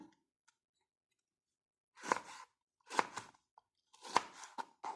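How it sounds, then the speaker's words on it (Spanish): Chili pepper being cut with a knife on a board, three distinct crisp chops about a second apart with a few faint taps, close and otherwise quiet. "También vamos a partir el chile, cantidad a su gusto"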